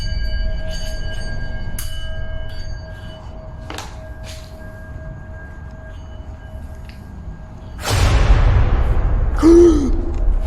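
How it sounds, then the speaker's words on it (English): A bell rung to summon spirits inside an abandoned building gives a sustained, steady ringing tone that lingers for several seconds, then a sudden loud, noisy burst crashes in near the end. "They decide to use a bell in an attempt to summon whatever spirits supposedly reside in the now abandoned building"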